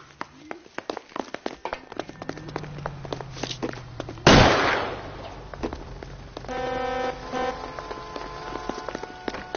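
In the video game L.A. Noire, a sharp, loud explosion bursts out midway after a stretch of scattered clicks and pops, followed by a buzzing, tonal electronic hum.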